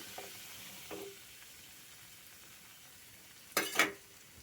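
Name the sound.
semolina (rava) added to hot pan and stirred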